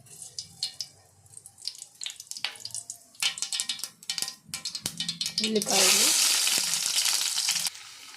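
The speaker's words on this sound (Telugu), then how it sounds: "ఉల్లిపాయ కరివేపాకు వేగుతోందండి" Onion and curry leaves with mustard seeds and cumin frying in oil for a small bitter gourd dish, scattered pops and spoon clatter giving way to a loud, hissing sizzle that swells near the end, no voices.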